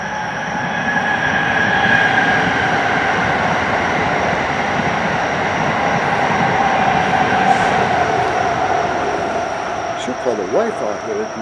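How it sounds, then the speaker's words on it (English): A train passes nearby, a loud, continuous rolling rumble with high wheel squeal that holds steady for about ten seconds before easing off. "I hear a train coming."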